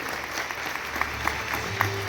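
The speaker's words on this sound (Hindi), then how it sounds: "जोरदार तालियां सभी की ओर से।" Applause from an audience at a public event announcing a transport project, with faint clapping and sharper claps spaced at regular intervals, and a low hum underneath.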